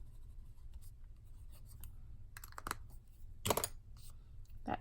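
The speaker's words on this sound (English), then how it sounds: "And then here is the fine nib fountain pen." A fine nib fountain pen writing in a Barnes and Noble notebook: faint, close scratchy strokes on paper in short, irregular bursts over a quiet background hum, with no talking.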